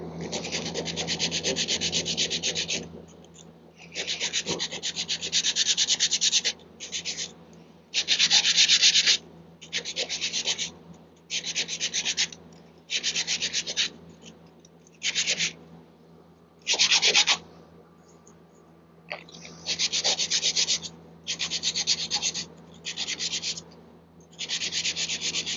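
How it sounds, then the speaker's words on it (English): Hand sanding with a small piece of sandpaper in a shop, likely on a wooden piece: repeated close, rasping strokes come in bursts of about a second each, separated by short pauses, with no talking. "Just going to grab a little piece of sandpaper."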